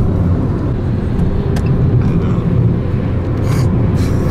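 A Lada Niva engine revving at full throttle, a loud, steady low rumble and drone from inside the car that holds constant throughout.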